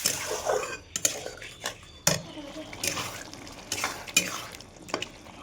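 Fried potatoes sautéed with salt, turmeric and spices in a pan for a rohu fish curry: quiet sizzling broken by repeated spatula scrapes and clinks against the metal, with faint background voices.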